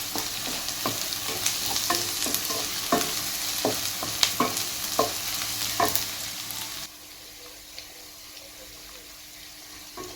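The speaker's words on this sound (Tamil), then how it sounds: "மசாலா நல்லா ஃப்ரை ஆயிடுச்சு." Masala and chicken frying in a pan with green chili for garlic chicken, heard as a loud close sizzle with repeated scraping stirs for about seven seconds before dropping to a quieter background hiss.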